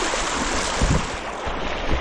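A wide river being crossed, its broad flowing water rushing steadily and close, with a constant wash and some wind buffeting and no voices.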